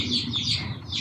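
Chickens cluck and chirp continuously nearby alongside ducks, a busy overlapping chatter of fowl calls with a low background rumble.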